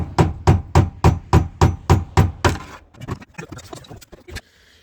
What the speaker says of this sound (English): you just gotta push it out with a big flathead screwdriver